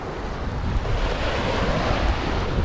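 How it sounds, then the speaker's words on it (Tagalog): Strong gusty wind roars across the microphone alongside the steady wash of waves at a fishing spot in Mati, Philippines, continuous and loud, with no voices. "Medyo mahangin siya."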